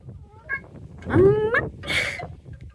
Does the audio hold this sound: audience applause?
no